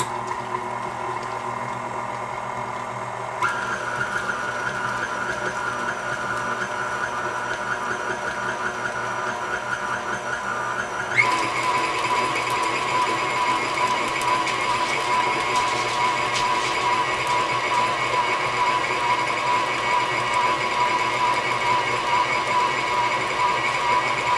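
An electric mixer creams gluten-free chocolate chip cookie dough with eggs and vanilla, giving a steady motor whir that steps up twice in speed and grows louder, running alone without speech.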